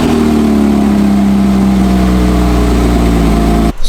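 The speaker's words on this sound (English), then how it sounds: "let's do a cold start on the 2005 Porsche Boxster S." A 2005 Porsche 987 Boxster S engine cold starts and settles into a loud, close, high idle with a steady mid-pitched drone, then cuts off abruptly near the end.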